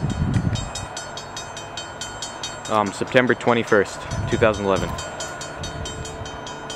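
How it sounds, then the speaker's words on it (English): A CN C40-8W diesel locomotive approaches at night, a low engine rumble running under a voice at close range, with bursts of his speech over it. "here's the train in the dark."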